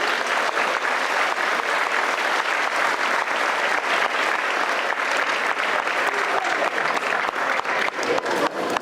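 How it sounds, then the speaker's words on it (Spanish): Audience at a Mapiripán commemoration event applauding loudly and steadily, dense clapping from a crowd sustained throughout without letting up. "para quien pido un fuerte aplauso de parte de todas y de todos"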